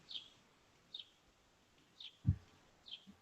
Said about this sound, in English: The birds are really loud in the background.